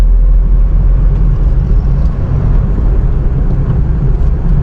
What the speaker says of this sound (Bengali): এই দেখুন ভালো জোরে চালাচ্ছি কিন্তু